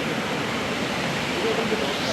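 A waterfall once used for farming makes a steady, close rushing roar of flowing water, unbroken and with nothing else over it.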